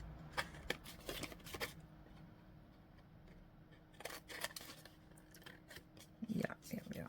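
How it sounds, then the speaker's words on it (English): Scissors trimming craft material, several quick crisp snips in a cluster at the start and another group a few seconds later, close and fairly quiet with soft handling rustles between. "All right, I'm going to trim this now. Like so. And let's trim this as well."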